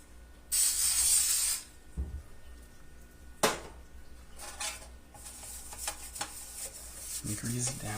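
Grease sprayed onto a cake pan from a can in a home kitchen, one long hiss near the start, then shorter bursts and small clatters, with a voice speaking briefly.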